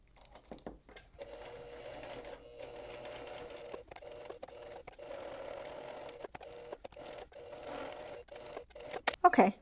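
A sewing machine runs in steady bursts while back tacking and finishing a seam on a custom hand warming insert, its motor whirring close by with brief pauses between runs, and a voice speaks over it.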